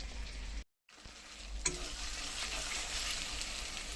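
Chicken pakora frying in hot oil gives a steady, close, crackling sizzle that cuts out briefly near the start, then returns with a single sharp clink, followed by continuous bubbling.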